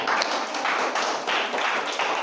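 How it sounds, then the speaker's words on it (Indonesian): An audience applauds at the close of a discussion session, with many hands clapping in a dense, steady patter that swells slightly in waves. "Tepuk tangan."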